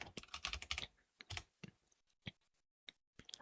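Quick bursts of typing on a computer keyboard, close and quiet, with a dense flurry of keystrokes at first, then scattered single taps separated by short silences.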